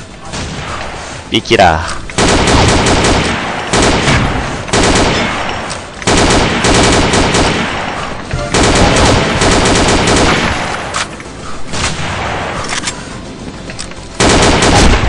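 Rapid automatic gunfire rattles loudly and almost without pause in the online shooter Combat Arms, with bursts of shots and impacts, while someone briefly speaks over the din.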